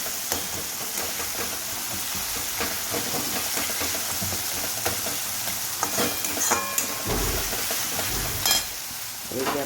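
Masala stirred and cooked in a pan, a steady loud sizzle running throughout with occasional scraping clicks of a spoon against the pan.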